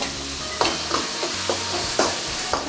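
Ginger garlic paste frying in hot oil with cumin, mustard seeds and curry leaves, a steady close sizzle punctuated by several soft stirring scrapes at a loose rhythm.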